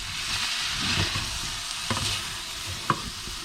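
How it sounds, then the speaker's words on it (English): Soljanka sizzles in a pot as pickle is stirred into it, a steady frying hiss broken by a few soft scraping and knocking strokes of the spoon, close up with no voices. "I'm going to stir this up a little bit"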